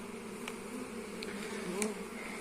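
A late-season honey bee swarm leaving a hive, a steady close buzzing drone of many bees, with a few individual bees zipping past.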